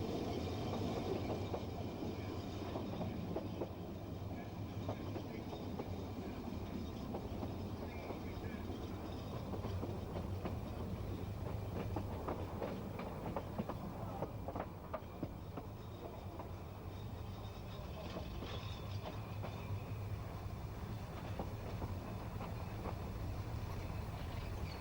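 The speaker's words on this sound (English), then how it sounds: "the first train of the day arrives at Ffestiniog" A Ffestiniog Railway steam train arrives at Ffestiniog station, a low continuous rumble and faint rail clatter heard from a distance under a muted background for the whole stretch.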